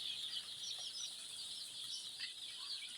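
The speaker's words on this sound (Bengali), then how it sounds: "মুরগির খামার" One-day-old Sonali and super hybrid chicks under brooding on a poultry farm keep up a continuous, faint chorus of high peeping and chirping.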